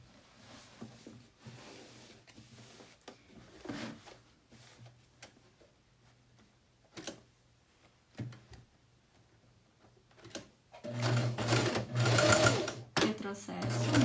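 A sewing machine runs a seam along a pocket flap, with quiet handling and faint talk first, then a loud, steady stitching burst near the end.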